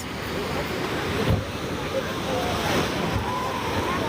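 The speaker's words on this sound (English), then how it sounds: "And then where it's crashing on the cliffs over there, it's getting more dramatic because the tide is coming in." Ocean waves crash against coastal cliffs as the tide comes in, giving a continuous surf roar with wind buffeting the microphone and a few soft surges rising and falling.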